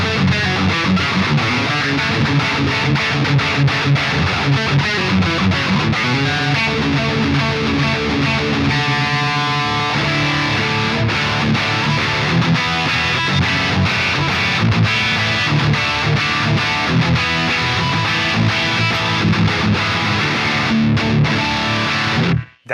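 A high-gain electric guitar riff plays through a Bogren Marshall amp simulation with the reverb switched off, sounding loud, dry and heavily distorted, with chugging palm-muted rhythm running for over twenty seconds.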